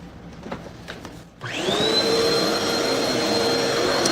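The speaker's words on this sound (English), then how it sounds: "Yeah, we're gonna vacuum." A household vacuum cleaner starts up after a quiet moment and keeps up a loud, steady whine with a rising tonal hum that runs to the end.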